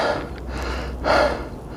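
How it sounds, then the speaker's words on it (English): A hiker on the Appalachian Trail breathes hard after finishing a climb, with two heavy, close exhalations about a second apart. "breathing hard, just finished the climb"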